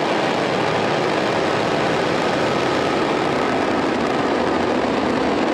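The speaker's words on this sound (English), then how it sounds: "Engines full power and liftoff. Go Falcon, go NROL 77." SpaceX Falcon 9 rocket engines at full power during liftoff for the NROL-77 launch at Cape Canaveral, Florida, a loud, unbroken roar of dense broadband noise.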